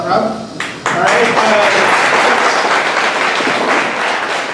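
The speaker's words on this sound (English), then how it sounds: "let's give another round of applause for all the speakers." An audience at a database lightning-talks event breaks into sustained, loud applause for the speakers, dense clapping rising quickly after a brief moment and continuing steadily throughout.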